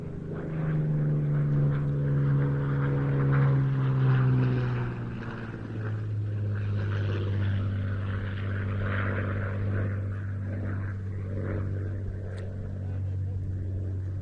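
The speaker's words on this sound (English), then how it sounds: "George Hay in the Suffolk Spitfire Mark 16" A Supermarine Spitfire Mark 16 flies at the Old Buckenham Airshow 2023. Its piston engine gives a steady, fairly distant drone whose pitch shifts downward partway through and then holds.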